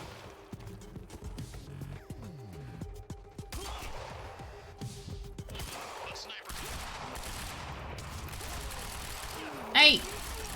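Quantum Break gunfire crackles through a firefight, with scattered shots and bursts, mechanical clatter and a sharp loud crack near the end, while a voice speaks at times.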